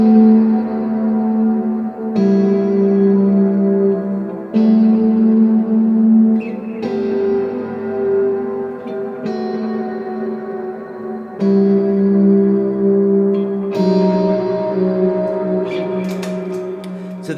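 An electric guitar plays sustained harmonized thirds, a series of ringing two-note chords changing every couple of seconds, close and clear with echo and reverb effects, without speech.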